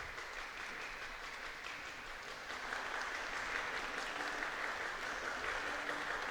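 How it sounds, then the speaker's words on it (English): Dense, steady clapping from a girls' basketball team, fairly distant and even throughout, with no talking over it. "that's the Lady Bulldogs clapping over there really quickly"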